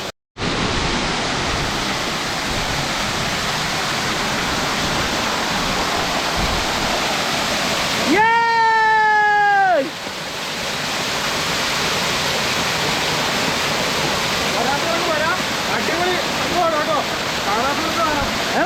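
Suruli waterfall in a jungle setting, water pouring down with great force as a loud, continuous roar close by; a brief tonal whistle-like sound cuts in partway through, and voices are faintly present.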